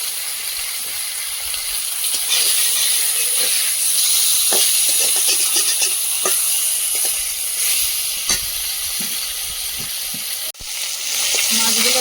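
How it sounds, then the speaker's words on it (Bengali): Catla fish pieces fry in a small amount of oil, giving a steady, fairly loud broadband sizzle and hiss with scattered crackles and pops throughout, briefly dipping near the end. "মাছগুলো ভেজে নিয়ে তুলে নেব।"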